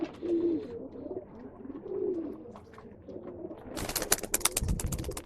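Pigeons coo in low, rolling bursts at a Bangalore pigeon sale, with a few soft calls early on before a burst of wing flapping and rustling near the end.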